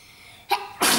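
A single close, loud sneeze from a child bursts out after a brief quiet intake, with a short catch followed by a longer explosive release.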